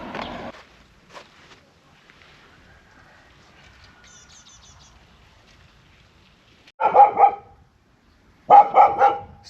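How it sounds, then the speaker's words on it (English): A dog barks in a village in Kazakhstan, two loud close bursts of several rapid barks each near the end, after a faint bark at the start and quiet outdoor background. "Stop barking."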